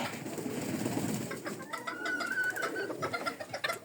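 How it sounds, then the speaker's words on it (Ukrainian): Pigeons, a mix of Bukhara and white breeds, cooing nearby in a cold, windy outdoor yard alongside chickens and roosters, soft repeated coos with occasional fowl clucks and rustling. "Тут, тут голуби, бухара, більські."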